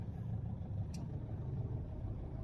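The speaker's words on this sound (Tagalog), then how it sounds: "Yan yung engine noise." A car engine idling with a low, steady rumble heard close up, even and unbroken apart from one brief faint click, no talk over it.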